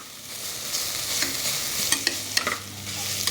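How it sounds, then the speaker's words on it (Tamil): Onions and tomatoes sauté in a pan for mutton kurma, a steady close-up sizzle with occasional scraping stirs of a spoon, and no voices. "பாருங்கள், வெங்காயம் நல்லா வதங்கணும். கொஞ்சம் நல்லா ப்ரௌனாக வதங்கணும்."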